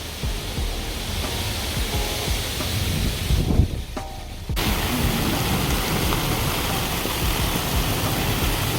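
Rain drums steadily on a Coleman Sundome tent during a windy storm, a loud, even hiss with a brief softer dip midway.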